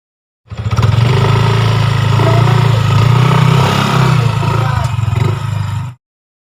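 A motorcycle engine roars loud and close for about five seconds, a steady deep rumble that starts abruptly, holds, and cuts off, with no talk over it.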